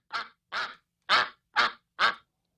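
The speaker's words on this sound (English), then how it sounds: "It's a 1 hour of just duck noises." Five loud, separate quacks or honks from real ducks, evenly spaced about half a second apart and heard close up with nothing else around them.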